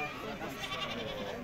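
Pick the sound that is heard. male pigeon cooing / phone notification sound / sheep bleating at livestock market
sheep bleating at livestock market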